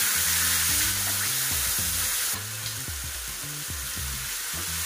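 Mashed banana hits a hot pan with coconut and is stirred, setting off a loud, continuous close sizzle with scraping stirs, while rhythmic background music plays underneath.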